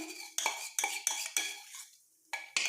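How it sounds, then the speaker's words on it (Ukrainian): A utensil stirs honey cake batter in a bowl, clinking and scraping against the sides in several quick, close strokes with a short pause before the last ones. "І знову перемішаємо"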